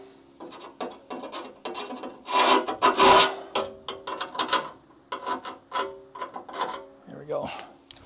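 Close rasping of a hand file taking a burr off a metal car part during a Chrysler Charger crew cab restoration, in irregular bursts of scraping strokes with short pauses, a louder stretch midway.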